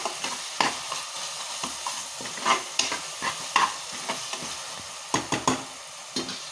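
Tomatoes sautéing in a pan for prawn biryani, with close, steady frying sizzle broken by repeated scraping and clinking stirs of a spoon against the pan, no talking.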